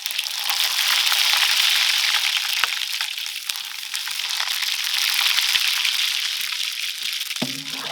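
Mustard seeds and fenugreek frying in hot oil for a village-style fish curry, a loud continuous crackling sizzle throughout with a couple of sharp pops and a clatter near the end, no one talking.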